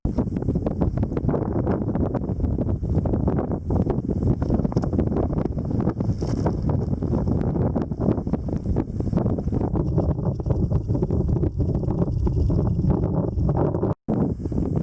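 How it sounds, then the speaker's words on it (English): Strong, continuous wind buffets the microphone on a desert mountain ridge in the McCullough Range. It makes a loud, rough rumble that stays steady throughout, with a brief dropout near the end. "It's a bit cloudy and breezy right now"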